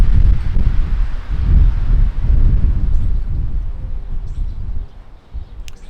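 Strong wind buffeting an outdoor camera microphone, a loud continuous rumbling roar with gusty swells that eases slightly toward the end.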